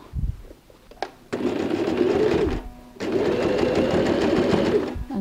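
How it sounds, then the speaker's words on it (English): A sewing machine stitches handbag fabric for a pyramid-style bag in two loud, steady runs, broken by a short pause and a few light clicks as the presser foot is lifted and the fabric turned. "And go and sew this way."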